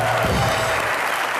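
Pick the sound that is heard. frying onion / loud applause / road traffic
loud applause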